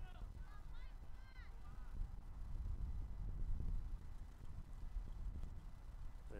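Wind buffets the microphone in a steady low rumble at a cold outdoor men's college soccer semifinal, with faint distant shouts and calls from the field.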